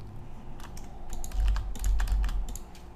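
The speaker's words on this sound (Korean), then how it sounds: "제가 다시 한번 여기다가 제목과 본문을 입력한 다음에 제출을 누르면" Quick, steady typing on a computer keyboard as a title and body text are entered into a web form, close and clear with no voices.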